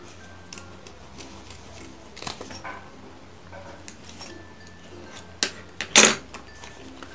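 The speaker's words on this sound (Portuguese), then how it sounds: "Essa beirada que sobrou, vou cortar também." Scissors snip off the leftover fabric edge of a handmade zipper pouch, giving a few sparse, close clicks and one sharper cut near the end in an otherwise quiet room.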